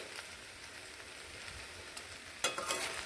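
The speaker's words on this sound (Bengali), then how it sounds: "সবগুলোকে একসঙ্গে এইভাবে মশলার সঙ্গে সবজিগুলোকে ভালোভাবে মিশিয়ে আরও একটু কষিয়ে নেব।" Broccoli and mixed vegetables being stir-fried with spices in a pan, a quiet steady sizzle with a louder stirring scrape near the end.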